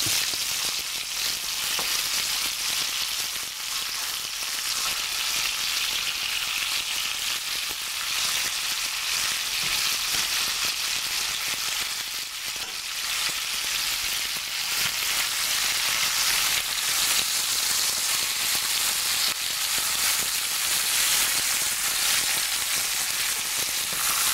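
Goat meat searing in a hot pan for curried goat, giving a loud, dense, continuous sizzle close by that holds steady throughout with no talking.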